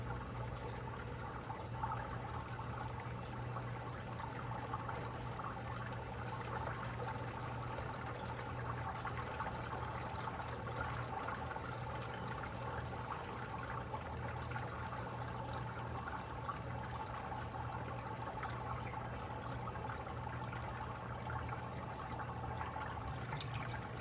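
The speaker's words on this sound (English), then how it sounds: "I got water all the way through it now, and the bubbles have stopped" Quiet, continuous gurgle and trickle of water running into an aquarium canister filter as it fills, steady and soft, with a low hum underneath and no speech.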